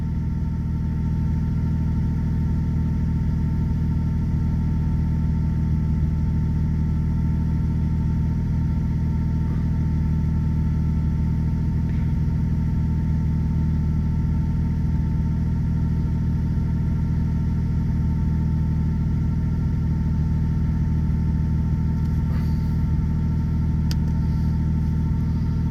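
A 1990s Toyota Supra project car idles steadily for the full length, giving a constant low rumble with a smooth, even tone and no revving.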